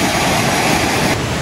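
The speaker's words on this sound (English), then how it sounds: "Another creek crossing." A creek rushes over rocks at a trail crossing in the mountains in mid-March, a loud, dense, continuous wash of flowing water heard up close with no voices.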